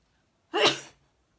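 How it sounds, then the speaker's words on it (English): One sharp, close sneeze bursts out of near silence and fades quickly. "Oh, I'm gonna sneeze."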